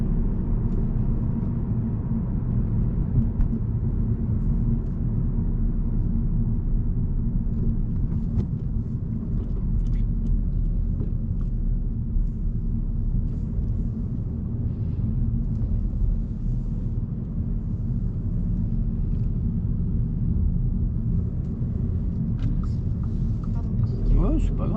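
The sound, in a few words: car accelerating again after shifting into fourth gear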